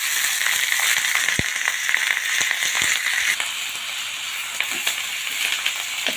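Rice frying in a pan with asafoetida and curry leaves makes a dense, steady sizzle with small crackles and a few sharp stirring knocks, close and fairly loud.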